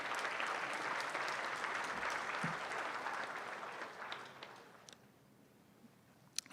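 Crowd applause at a university centennial closing ceremony, full at first, then thinning and fading away into near silence with a few stray claps at the end.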